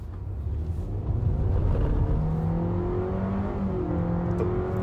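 A Hyundai Stargazer X in sport mode accelerating hard, a steady loud engine drone heard from inside the cabin, with the pitch slowly climbing as the revs build, road rumble underneath and no talking.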